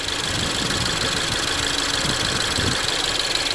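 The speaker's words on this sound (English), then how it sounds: "engine is running, we are on P" A 2.0 Ford Mondeo Mk5 with an automatic gearbox idles in park, a steady even engine hum with broad hiss, continuous and close throughout.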